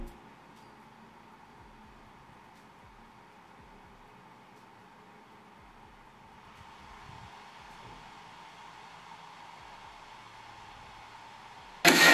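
A steady, low cooling-fan hum from a Blitzwolf BW-VT2 mini projector runs throughout, slightly stronger and airier in the second half at fan level 5, ending with a sudden loud burst of noise.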